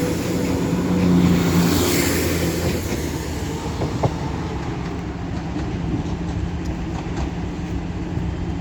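Train 17472, running Sheffield to Scarborough, pulls out of Doncaster station with a steady rumble of wheels on rails and faint clicks, a brief squeal heard early on.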